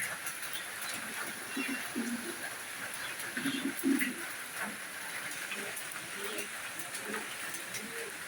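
Budapest racing pigeons coo in low, repeated rounds through a steady background hiss, moderately close and at an even level across the stretch.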